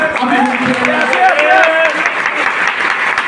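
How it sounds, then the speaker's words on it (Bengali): Audience applause at a health talk in a party center, a short burst of crowd clapping heard together with overlapping voices and some cheering. "জোরে একটা হাততালি চাই।"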